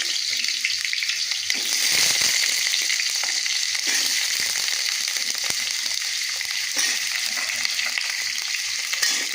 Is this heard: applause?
no